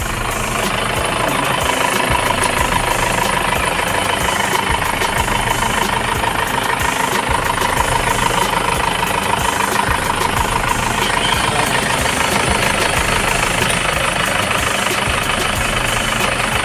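A used Isuzu pickup with a 2.5 turbo diesel engine idles nearby in the evening, a loud, steady knocking rumble that holds throughout with little change in level.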